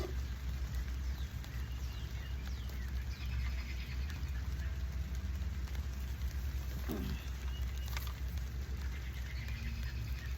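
Harder rain falls steadily outdoors in a garden in May, a dense, even patter of hiss that holds for the whole stretch with no pauses, and faint birds are scattered underneath.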